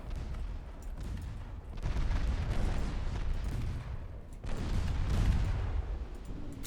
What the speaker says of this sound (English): Torpedo hits. Multiple.